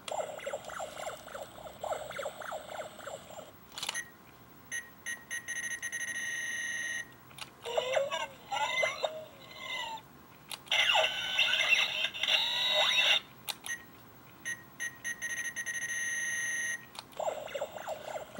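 Electronic chirps and beeps from a Kamen Rider W DenDen Sensor memory gadget toy, its back button triggering bursts of synthetic tones separated by short gaps, loud and close with no talking.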